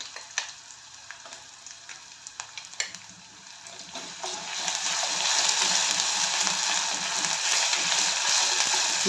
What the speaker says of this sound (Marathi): कांदा चांगला परतून घेऊया आणि मग त्याच्यामध्ये मी टाकणार आहे लसूण अद्रकची पेस्ट